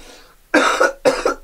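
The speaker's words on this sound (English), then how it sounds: "Some kind of cough going around, everyone." Two sharp, close coughs in quick succession, each a harsh burst after a quiet, breathy lead-in.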